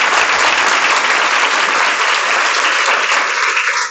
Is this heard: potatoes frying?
no